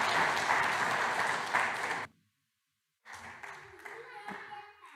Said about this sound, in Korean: 박수 한번 다시 부탁합니다.